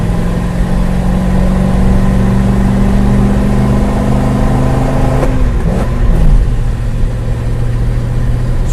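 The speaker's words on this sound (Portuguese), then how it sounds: "Mais legal é o som do V8." A V8 engine on a classic car with bias-ply tires rumbles steadily on a damp street, holding a loud, even drone before a short rev change and settling back, with no voices.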